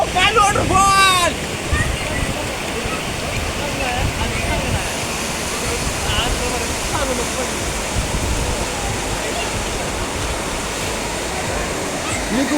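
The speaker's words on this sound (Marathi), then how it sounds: "ये देखो काल वॉटरफॉल." Kalu waterfall in Maharashtra gives a loud, steady, broad roar of falling water, close and constant throughout with no break.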